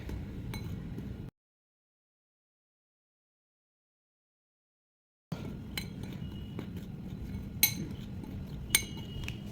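Masala peanuts being mixed with salt and chili powder in a bowl, soft scraping and scattered sharp clinks of utensil on vessel, quiet and close, broken by a few seconds of silence.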